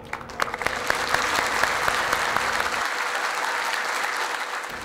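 Mushaira audience claps in a sustained burst of applause, loud and close with sharp individual claps at the start, thinning toward the end.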